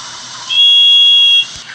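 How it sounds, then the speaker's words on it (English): Rosie, a tank engine copying Thomas, gives a single short steady steam whistle, loud and held for about a second. "She even tried to whistle like Thomas."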